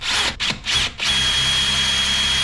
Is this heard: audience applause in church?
no